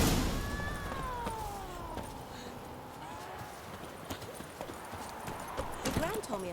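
Roach the horse in The Witcher 3 gallops with repeated muffled hoofbeats beneath a voice and in-game music, the rhythm growing busier toward the end.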